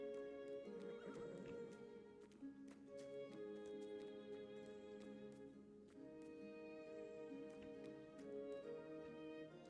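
Horses in the video game Masquerada neigh and whinny repeatedly over game music, with clip-clopping hooves in the mix, the calls coming in several distinct bursts throughout.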